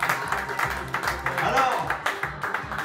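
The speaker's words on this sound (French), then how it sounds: "D'André Tiffany, on peut les applaudir," A karaoke-night crowd applauds the singers André and Tiffany, with rhythmic, pulsing claps at a steady beat and voices mixed in over the clapping.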